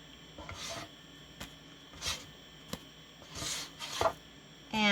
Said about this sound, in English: we are going to take these off the griddle, stack them on our